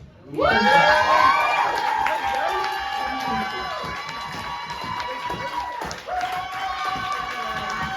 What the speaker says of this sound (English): I never know what to do when people are clapping